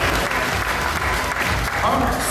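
An audience at a pageant-style show applauds, dense clapping from many hands filling the room loudly and evenly for a couple of seconds, with a voice partly audible over the applause.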